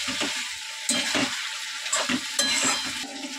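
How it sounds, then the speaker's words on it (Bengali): Fried potato and cauliflower go into a masala in a pan, where they sizzle loudly and up close as a utensil stirs and scrapes against the pan in repeated bursts, with no voices. "এবারে হচ্ছে আলু ফুলকপিটা দিয়ে দেবো ভেজে রাখা"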